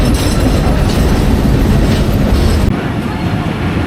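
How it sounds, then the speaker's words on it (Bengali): Loud, close rattle and rumble of the Dhalarchar Express intercity train running on rails from Pabna toward Rajshahi, with continuous clickety-clack of the wheels that drops slightly in level near the end, as if heard from inside a carriage. "এই পথ দিয়ে আমরা আজকে রাজশাহী যাচ্ছি, এই দালারচর ট্রেনে"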